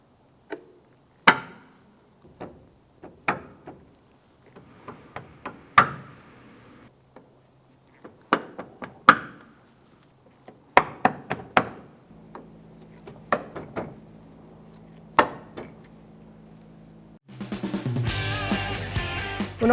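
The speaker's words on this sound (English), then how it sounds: "So we're just going to install our clips all the way across the top of the bumper." Plastic push-pin clips pressed one by one into the top edge of a 2008-2013 Nissan Rogue bumper, giving sharp separate snaps and clicks at irregular intervals, close and fairly loud, with a louder rustling burst near the end.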